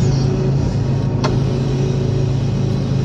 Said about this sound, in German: Das hier ist auch ein Hakenlift. LKW, ein Vierachser.